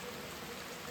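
Rain falls steadily in a forest, a dense, even hiss of drops on leaves and surfaces, close and continuous with no voices.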